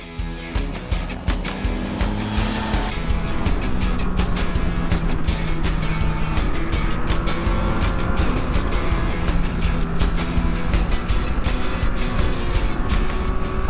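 A 2024 Yamaha MT-09 SP motorcycle ridden along an open road, its engine note rising and falling through gear changes, loud and steady throughout with wind rush over the top.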